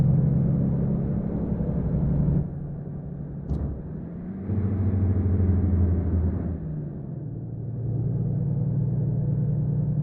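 Truck engine in the American Truck Simulator game, a steady low rumble that dips around two seconds in, swells again and holds a continuous drone with no talk.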